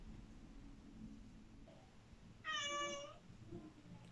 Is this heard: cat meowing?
yes